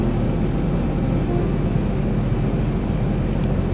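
An airliner drones steadily on final approach to landing in the X-Plane 11 flight simulator game. The low engine and wind rumble is constant and fairly loud throughout, with no talk.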